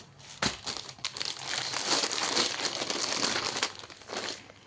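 Plastic packaging crinkles and rustles close up while a mekhela sador clothing order is being packed, a continuous crackly handling sound with a sharper burst near the start, with no voices.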